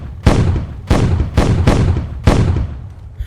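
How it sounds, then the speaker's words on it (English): Four heavy booming blasts in the video game Beyond Sandbox in quick succession, each a loud low thud with a crackling tail, spaced about half a second apart, with no talking. "Yeah, the explosions are kind of pathetic,"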